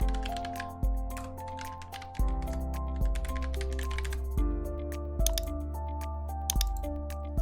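Keys on a computer keyboard are tapped in quick, uneven bursts while an email address is entered, close and clear with no voices.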